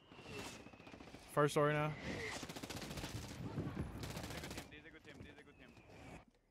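Rapid automatic gunfire from Warzone 3 on Rebirth Island rattles in short bursts beneath steady squad voice chat, with players talking over the shots throughout.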